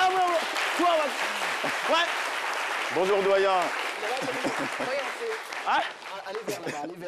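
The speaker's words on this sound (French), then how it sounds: "Merci d'applaudir très fort notre invité, s'il vous plaît, mesdames et messieurs." Studio audience applause for a guest on a midday French TV show, a sustained wash of clapping running under lively overlapping speech.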